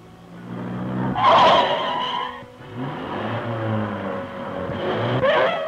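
A car's tyres skid and squeal under hard braking on a test track, with engine noise throughout: a loud screech swells near the start, eases, then rises again toward the end.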